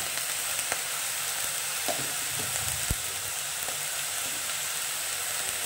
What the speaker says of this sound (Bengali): তো এখন এগুলোকে আমি খুব সুন্দর করে একটু ভেজে নেব।